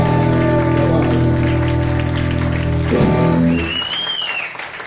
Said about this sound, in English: Give them a nice round of applause for the